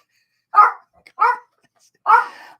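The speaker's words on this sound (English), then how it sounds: "That would be Mom's dog doing what she does best, barking at the craziest times." A dog barks three times indoors, short sharp yaps spaced about a second apart, close and loud against silence.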